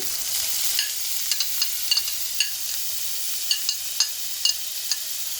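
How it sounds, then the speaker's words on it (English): Beetroot, peas and capsicum for pav bhaji hiss steadily in a hot pan, a bright continuous sizzle punctuated by a dozen or so sharp clicks and scrapes of a spoon stirring, close and alone. "So our beetroot, peas, capsicum, just throw all of it in."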